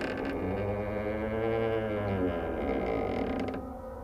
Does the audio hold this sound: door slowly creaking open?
yes